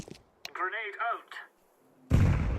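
A grenade explosion in a video game, a sudden loud, broad boom that rumbles on after a short spoken callout and a few sharp clicks.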